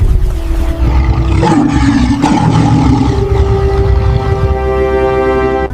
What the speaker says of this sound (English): The tigers let out thunderous roars that shook the entire farm.